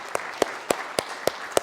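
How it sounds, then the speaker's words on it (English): Single person clapping at a motivational talk, six sharp, evenly spaced claps about a quarter second apart, close and fairly loud against a quiet room rather than a full audience. "So one more time, round of applause, please."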